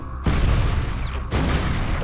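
A barrel cannon fires in Donkey Kong Country Returns, a loud, sudden booming blast that cuts in abruptly and stays heavy, with a second loud burst following about a second later.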